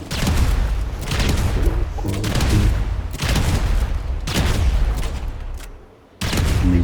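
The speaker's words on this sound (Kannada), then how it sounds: "ಮಿಸೈಲು ನೀರಿಗೆ ಬಿದ್ರ ಮೇಲೆ ಹೋಗ್ಬಿಡ್ತು ಅನ್ಸುತ್ತೆ." Missiles and bombs blast the water in GTA 5, a run of loud booming explosions in repeated bursts, each with a heavy low rumble, separated by short dips and one near-silent gap.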